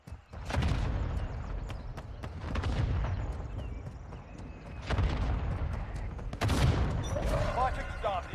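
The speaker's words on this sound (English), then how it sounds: "Mortar strike inbound now" Mortar strike explosions in the shooter game Warzone Mobile: a series of heavy booms and crackling bursts, with several loud impacts spread across the stretch and rumbling decay between them.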